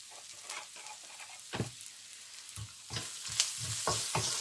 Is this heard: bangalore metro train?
no